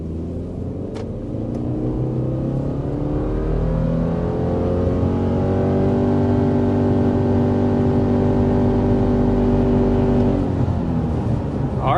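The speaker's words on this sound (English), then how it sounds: "there is our acceleration up to 60 miles per hour with the 2025 Subaru Forester" A 2025 Subaru Forester with its larger-displacement engine accelerates hard to 60 mph, steady loud engine drone rising smoothly in pitch over several seconds, heard from inside the cabin before the revs drop off near the end.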